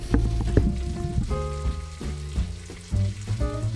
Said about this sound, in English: Oh man, bacon sizzling and jazz.